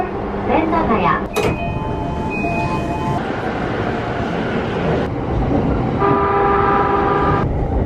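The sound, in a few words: Tokyo Chuo line local train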